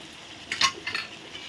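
A spoon stirs fried rice with boiled peas in a pan, giving a few soft scraping clinks clustered together near the mic, then quieter shuffling.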